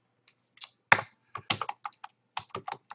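Typing on a computer keyboard while entering labels into an Excel spreadsheet, heard as a close, irregular burst of about a dozen sharp key clicks spread over a few seconds, with one louder thump among them and no talking.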